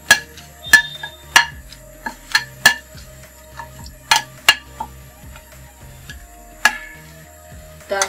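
Dried red chillies are stirred in a pan over medium heat, a spoon clinking and scraping against the metal in irregular sharp knocks with quiet sizzling between them.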